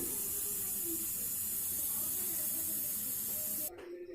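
A pressure cooker of egg khichuri vents steam after two whistles, giving a loud, steady hiss that cuts off abruptly near the end.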